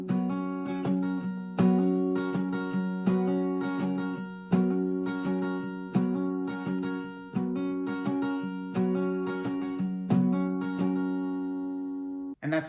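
Acoustic guitar plays the intro, steady strummed chords with hammer-ons in a repeating pattern, close and clear, ringing out near the end.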